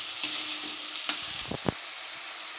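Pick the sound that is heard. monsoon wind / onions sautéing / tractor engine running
onions sautéing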